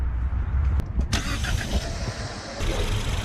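A Ford Focus ST engine with an aftermarket intercooler cranks and catches, then settles into a steady low rumble that runs loud throughout.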